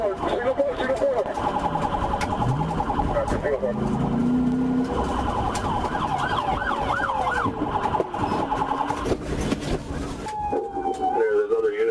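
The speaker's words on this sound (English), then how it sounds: "I activated my hazard lights and siren to stop the vehicle." Police car siren wailing during a high-speed vehicle chase, rising and falling in repeated sweeps over loud road and engine noise, with radio chatter and voices talking throughout.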